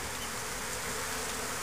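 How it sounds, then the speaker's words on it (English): Honey bees swarm around a hive entrance where robbing is suspected, and their dense, continuous buzzing hums close by without a break. "there was just a lot of bees coming in with nothing and leaving"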